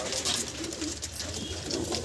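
High-flying Kaldom pigeons cooing nearby, soft overlapping throaty coos repeating through a continuous low ambient hum, with no voices.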